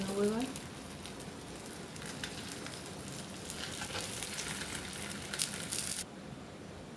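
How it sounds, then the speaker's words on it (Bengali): Masoor dal puri frying in a little oil on a griddle, giving a steady soft sizzle with some crackle that cuts off sharply near the end. "ভেজে নেবো এবার।"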